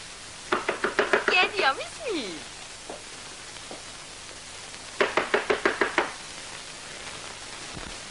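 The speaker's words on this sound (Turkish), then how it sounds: "Kapı vuruluyor dedim, aç şu kapıyı." Knocking on a wooden door in a 1968 Turkish village film, heard as two quick bursts of about six raps each, fairly close, separated by a pause with faint room noise.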